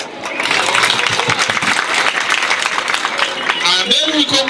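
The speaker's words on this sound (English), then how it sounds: "Clap for them." An audience at a ceremony breaks into a dense, steady burst of applause that lasts a few seconds, with a voice audible near the end.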